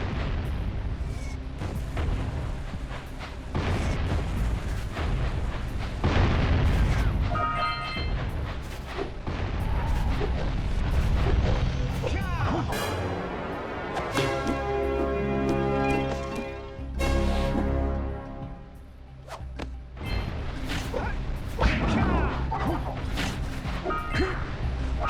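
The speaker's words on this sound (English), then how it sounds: "Their bombs are gonna explode." Enemy bombs blow up in the Jak & Daxter video game: dense, repeated booms and crashing impacts pile up over a steady game soundtrack, loud and continuous, with someone talking at times.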